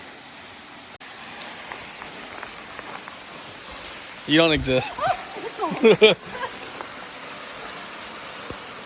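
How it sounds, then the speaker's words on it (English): Steady rushing roar of a waterfall in the Sipsey Wilderness fills the whole stretch, with a couple of people talking briefly over it midway. "we're over here by the waterfall"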